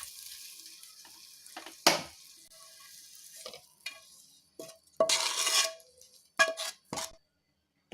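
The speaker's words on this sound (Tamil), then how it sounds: "முட்டையை இதோட சேர்த்துக்கங்க. ஃப்ரை பண்ணி எடுத்துக்கங்க." Eggs frying in a pan for egg gravy, with short bursts of sizzling and spattering separated by quieter gaps, plus a few soft utensil scrapes, then silence at the very end.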